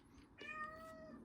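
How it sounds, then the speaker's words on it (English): A house cat meows once in a drawn-out, rising-then-falling call, fairly close and clear over a low room hum, with no talking. "Sorry about the cat."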